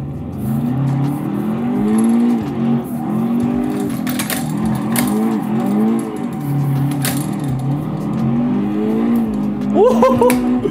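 A race car in the Assetto Corsa racing game drives through a corner, its engine note rising and falling in repeated revving sweeps with gear changes, loud and close, ending on a high rev.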